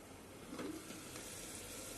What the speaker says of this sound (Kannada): ಸ್ವಲ್ಪ ಮುಚ್ಚಳ ಮುಚ್ಚಿ ಫ್ರೈ ಆಗೋಕ್ಕೆ ಬಿಡಿ